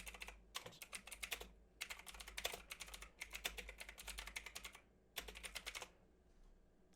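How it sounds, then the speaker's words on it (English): Bursts of computer keyboard typing, fast clattering keystrokes in several runs separated by short pauses, close and clear over a low steady hum, with no talking. "I'm probably not typing the right things"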